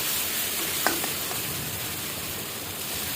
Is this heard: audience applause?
no